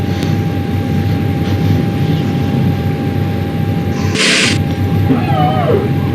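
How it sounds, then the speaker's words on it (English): Steady aircraft engine hum in the X-Plane 11 flight simulator's Airbus A319 during engine start, with a short, loud mechanical burst of grinding from the hydraulic power transfer unit midway, followed by a faint rising whine. "You can hear the PTU. It's basically the yellow automatic hydraulic pump."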